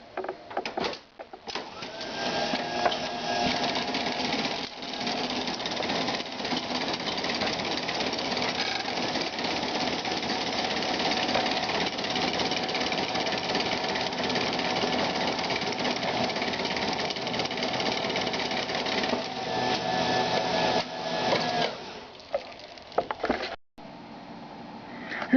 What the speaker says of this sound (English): I've removed all of the tracks so you can have the fun of seeing the mechanism run.